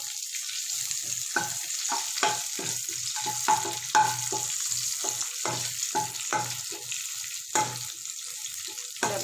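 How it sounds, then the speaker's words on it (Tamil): Mustard seeds, urad dal and curry leaves tempering in hot oil in a kadai, a steady close sizzle and crackle with sharp popping bursts scattered throughout, no voices. "கடாயில் எண்ணெய் ஊற்றி கடுகு உளுத்தம்பருப்பு கருவேப்பிலை போட்டு நம்ம அப்படியே தாளிச்சிட வேண்டியதான்."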